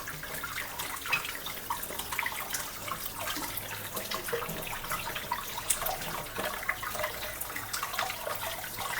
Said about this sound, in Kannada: ನೀಟಾಗಿ ವಾಶ್ ಮಾಡ್ಕೋಬೇಕು.